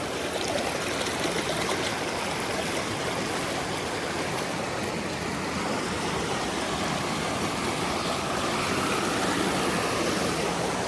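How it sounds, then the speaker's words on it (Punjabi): A mountain waterfall rushes steadily in the hills near Solan and Kandaghat, a dense, continuous roar of falling water with no voices, even and unbroken throughout. "ਇਹ ਝਰਨਾ ਧੋਂਦਾ ਪਹਾੜਾਂ 'ਚ"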